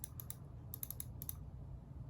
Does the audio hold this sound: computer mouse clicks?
yes